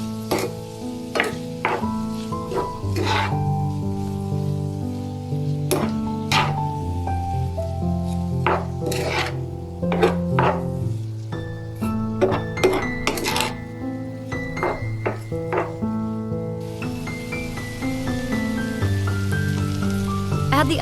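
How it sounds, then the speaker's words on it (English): Corn stir-fried with dried shrimp, MSG or chicken bouillon powder and salt: a steady, soft sizzle with scattered spatula clicks and scrapes, partly under melodic background music. "Stir fry until the corn is heated through and well combined."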